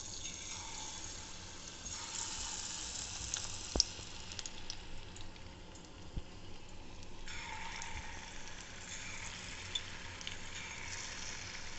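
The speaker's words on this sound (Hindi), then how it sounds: "यहाँ पर हम पकोड़े डालना शुरू करेंगे।" Ragi (finger millet) pakoras, vegan fritters, frying in hot oil, giving a steady soft sizzle throughout with a few small pops and clinks, moderately quiet and without talk.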